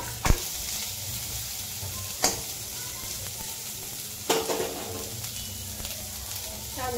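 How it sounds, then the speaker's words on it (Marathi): Onion sizzles steadily in a hot kadhai for a paneer curry, a continuous close frying hiss broken by a few sharp clinks of stirring. "कढई गरम झाली, कढईमध्ये कांदा टाकते"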